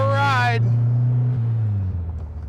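A 1970 Volkswagen Beetle with American specifications hums along with a low, steady engine drone after a short burst of speech at the start.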